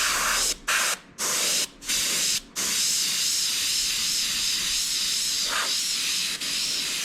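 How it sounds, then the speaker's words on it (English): An airbrush sprays paint onto a custom motorcycle tank: a close, steady hiss broken by several short stops early on, then running continuously. "obviously you can come back now and get a good spread with the airbrush"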